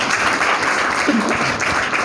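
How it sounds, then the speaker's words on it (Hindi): Audience applause at a Hindi motivational talk, a steady wash of clapping across about two seconds, with a faint voice briefly heard partway through. "आप इन सभी के लिए ज़ोरदार तालियां बजा दें।"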